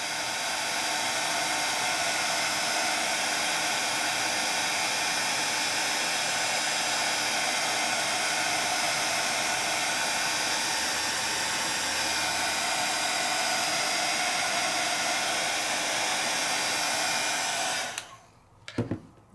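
A craft heat tool blows hot air steadily to heat-set craft ink, a loud, even whoosh that runs unbroken for about eighteen seconds before cutting off abruptly near the end.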